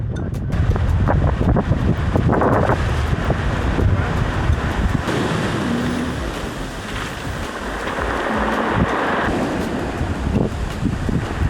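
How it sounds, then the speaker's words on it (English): Ocean waves wash around a sailboat anchored at La Gomera, a continuous broad surging rush heavily mixed with loud wind buffeting the microphone, no voices present. "And the waves."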